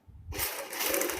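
A sewing machine stitches a folded V-neck strip, starting abruptly after a brief quiet moment and then running as a steady rapid whir.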